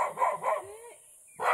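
A dog barks in a rapid series of sharp, close woofs, followed by a rising whine and another bark, loud and with no talking over it.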